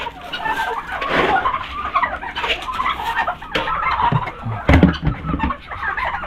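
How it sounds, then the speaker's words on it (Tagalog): Ducks and chickens on a farm cluck and squawk in a busy, continuous flock, with a few louder close calls standing out near the end. "mga bibi natin lumalaban na"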